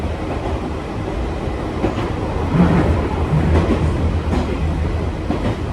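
A Nankai Electric Railway train in Osaka rumbles steadily along the rails at night, with a low continuous roar and faint rhythmic clatter throughout, no voices.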